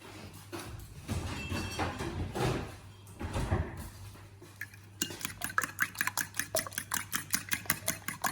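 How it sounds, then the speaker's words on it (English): Eggs beaten with about two tablespoons of milk for a cheese omelette. Softer scraping and clattering come first, then a quick, even run of metallic whisk strokes against a bowl, close and rhythmic, over a faint steady hum. "Whisk it properly."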